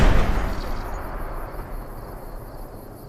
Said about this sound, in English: Now you want to make sure you do the test fire at least once.